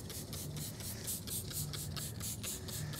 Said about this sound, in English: I'm going to go ahead and take the degreaser and spray it on the tire